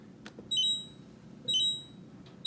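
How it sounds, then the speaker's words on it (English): A Whirlpool refrigerator beeps twice after a water filter reset, two short electronic beeps about a second apart, high and clear over a quiet room hum, followed by the start of a third. "It'll beep a couple of times"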